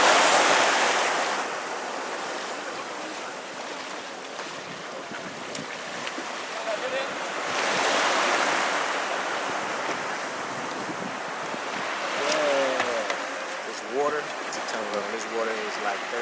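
Ocean waves wash onto a beach at night on Ngor Island, Senegal, a steady broad surf roar swelling and easing, with people talking nearby over it.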